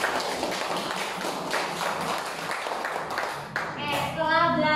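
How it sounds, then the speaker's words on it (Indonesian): Classroom applause for a student presenter: a dense, steady patter of many hands clapping at close range for several seconds, thinning out toward the end as a voice and other chatter come in. "Tepuk tangan buat Julian."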